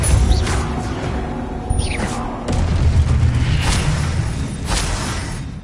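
A Depulso spell cast in the video game Hogwarts Legacy, heard as a booming whoosh and burst of force amid busy game effects, with a sharp impact around midway and continuous loud background sound.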